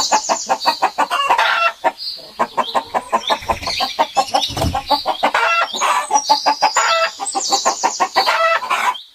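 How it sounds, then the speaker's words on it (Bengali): Cartoon chickens cluck busily on a farm, a dense run of rapid, rhythmic clucks and squawks overlapping one another, loud and close, with no talking. "ইয়ামিন দেখো, কত সুন্দর সুন্দর মুরগি খামারের ভিতরে"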